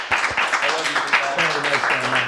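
Applause from a comedy roast audience, a dense wash of clapping with voices and cheers mixed through it, steady and fairly loud across the short stretch.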